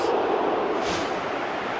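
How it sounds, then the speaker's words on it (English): Stadium crowd in a PES 2017 football match between Granada and Alaves, a loud continuous roar of reaction to a near miss that holds steady throughout. "Crowd reaction tells you just how close that was."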